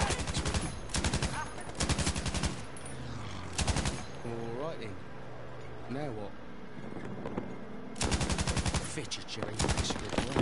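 Rapid machine-gun bursts from aircraft in Battlefield 5 rattle out in several loud, fast clusters separated by pauses, with a voice between and under them.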